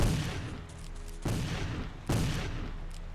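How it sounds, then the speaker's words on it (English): Volleys of gunfire from a History Channel Civil War video game, three dense bursts that crack in and roll on under a steady rumble of battle noise. "What are you shooting at?"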